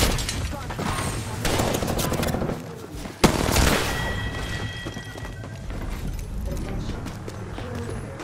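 Dense, continuous gunfire and explosions from an Apex Legends match, with one sharp, loud blast standing out midway through a steady, cluttered barrage.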